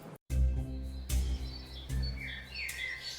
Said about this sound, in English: The sun was shining, birds were singing.